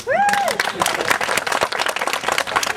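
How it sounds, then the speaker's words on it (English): Applause for Peyton Randolph, a short burst of lively clapping and crowd noise that starts after a rising whistle-like tone and carries on to the end. "Give Peyton Randolph some applause indeed"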